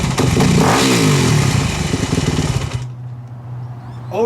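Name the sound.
Yamaha dirt bike engine revving, cutting out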